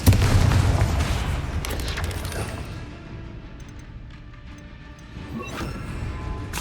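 Confringo fire-blast spell in Hogwarts Legacy, an opening burst that booms and rumbles then fades into debris and crackling, followed by another smaller impact near the end.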